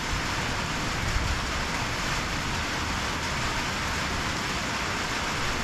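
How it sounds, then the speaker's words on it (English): Steady rain falling outdoors during a fishing trip, a constant broadband hiss and patter with no breaks, even and moderately loud throughout. "you can see and probably hear the rain coming down now"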